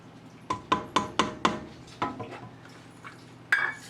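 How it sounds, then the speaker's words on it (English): Metal spoon clinking against a pot of rustic vegetable soup while stirring: five quick, evenly spaced clacks, then a few slower, softer scrapes and one final sharp clink, close and clear with no talking. "Stir."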